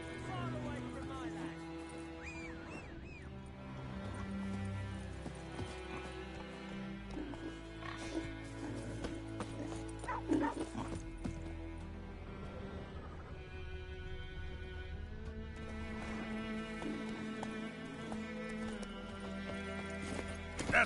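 Horse hooves clip-clop at a steady walking rhythm in a fantasy game scene, with a horse whinnying and voices talking over the plodding steps.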